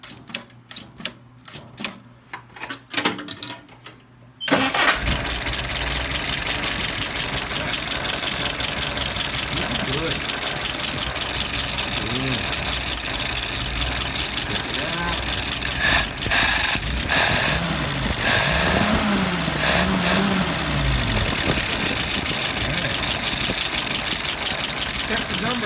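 An engine cranks and catches after a few seconds of clicks and knocks, then settles into a steady, close idle around 650–680 rpm that holds for the rest, with a few brief louder bursts partway through.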